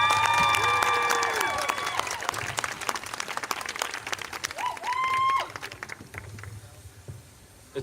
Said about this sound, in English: Please give them a loud round of applause.